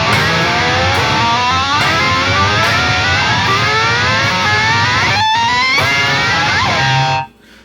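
Distorted electric guitar plays a run of overlapping double slides, each new slide starting higher than the last, rising steadily and sustained loud throughout before cutting off abruptly near the end.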